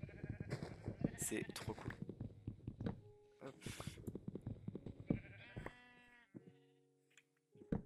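Sheep in Minecraft giving several short, game-style bleats, scattered between bursts of close, lively talk, with a couple of clear bleats standing alone near the end.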